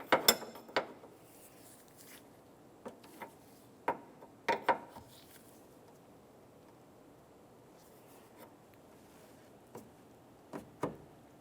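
An 18 mm ratchet snugging a transmission cooler line during radiator replacement on a 1994-2002 Dodge Ram 2500, a few faint clicking bursts spaced apart against a quiet background.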